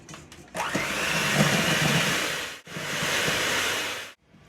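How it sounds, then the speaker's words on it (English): An electric mixer runs in two continuous bursts as it blends dairy-free ranch dressing with dill, a loud steady whir close by with a short pause between bursts. "You can hand mix this, but we're going to use a mixer."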